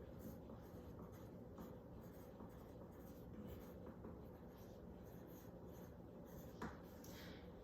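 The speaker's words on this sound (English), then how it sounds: "Let's try to write that on that line." A pencil scratches steadily across paper while sentences are written out on a lined practice page, a faint, continuous rubbing texture with small shuffles and one brief sharper tap near the end.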